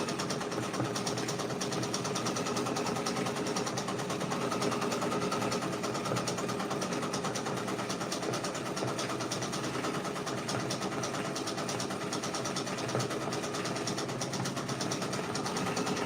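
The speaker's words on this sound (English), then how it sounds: "we're just gonna sit here and let this thing stitch out" An embroidery machine stitches a cherries patch at 600 stitches per minute, a continuous, even, rapid mechanical whirring and clatter that runs steadily from start to finish with no talk.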